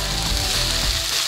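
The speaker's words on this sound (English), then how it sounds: "Now I want to brown these potatoes up before I get the corned beef in here." Potatoes and corned beef sizzle hard in a hot pan for a quick moment, a dense close crackle with a faint scrape partway through.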